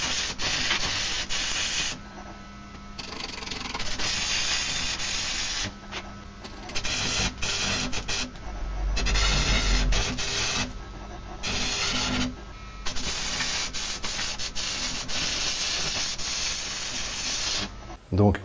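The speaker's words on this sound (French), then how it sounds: "ou alors une grosse rondelle que je soude au bout" A large washer being welded onto the end of a metal rod to make a loading pin: harsh, crackling, hissing bursts that start and stop in several runs with short pauses, loud and close.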